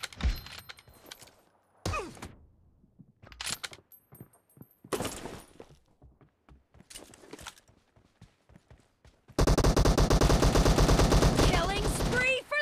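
Automatic gunfire in a PUBG Mobile team deathmatch, with sparse shots and short bursts early on, then a long, loud, dense stretch of rapid firing near the end.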